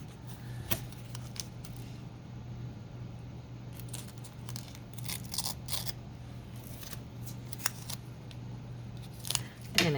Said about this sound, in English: I'm gonna cut this.